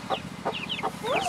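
A broody hen clucks in short, evenly spaced, low guttural pulses, about four in quick succession, close and clear against a steady outdoor background.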